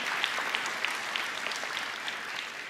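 Faint, steady applause from an audience, soft rapid clapping that keeps going for a few seconds at a distance with no one speaking over it.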